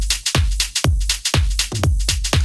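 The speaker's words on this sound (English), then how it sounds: "let's take this drum beat" Punchy drum beat in a DAW, with a steady rhythm of loud kick hits under bright snares and hi-hats, looping evenly with no voices.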